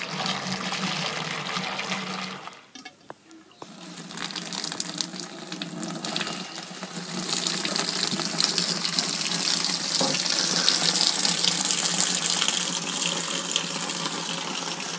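Water runs from a tap in a steady rushing stream, briefly cut off early on, then flowing louder and continuously.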